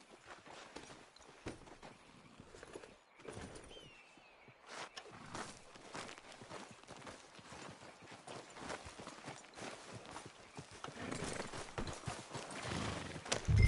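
Horse hooves clip-clop steadily while riding in Red Dead Redemption 2, a continuous run of dull thuds over a rough outdoor backdrop, fairly faint, building slightly louder toward the end.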